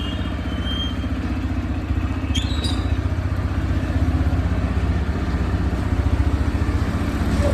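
Motorcycle engine running at a steady high idle just after a cold start, a continuous close-up drone with a fast, even pulse that holds throughout.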